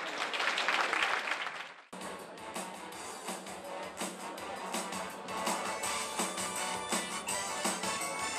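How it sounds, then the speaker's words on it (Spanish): Audience applause at a school Christmas show, a loud burst of clapping that cuts off abruptly, then resumes as steady, dense clapping and cheering that continues to the end. "¡Un aplauso!"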